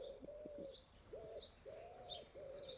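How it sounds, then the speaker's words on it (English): A pigeon coos close by in soft, throaty repeated calls, four or five rolling phrases with short gaps, alone against faint background hiss. "Go away, pigeon."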